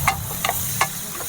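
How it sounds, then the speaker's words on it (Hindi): About 150 grams of finely chopped onion frying in hot oil, a soft steady sizzle with a few light stirring clicks, close and fairly quiet. "तेल को बिल्कुल गर्म होने के बाद हम डालेंगे लगभग 150 ग्राम बारीक कटा हुआ प्याज, और इसको हम अच्छे से पका लेंगे"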